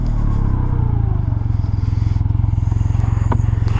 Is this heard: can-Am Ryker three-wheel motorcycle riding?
yes